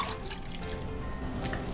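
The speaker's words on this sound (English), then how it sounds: "you're going to need 1 cup of warm water and to pour it into a small" Warm water splashes close by as it is poured into a small mixing bowl for soft pretzel dough, a short steady trickle with a brief clink at the end.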